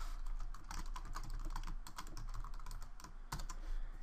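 Steady typing on a computer keyboard while entering LaTeX commands for a table caption, a rapid, close run of light key clicks with no voice over it.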